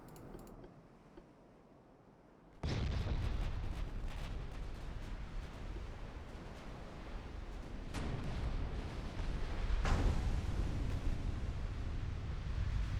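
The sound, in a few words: naval gunfire volley from video game Ultimate Admiral: Dreadnoughts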